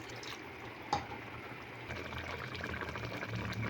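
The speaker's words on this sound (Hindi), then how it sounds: "पानी मैं थोड़ा सा और ऐड कर रही हूँ।" Water goes into a pot of potatoes and chicken on high heat, a faint steady pouring and bubbling hiss with a brief clink near the start.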